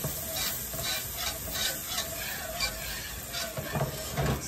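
Beef stock laced with Worcestershire slowly stirred into a hot pan, a steady scraping swirl over soft sizzling, close and moderately loud with no voices.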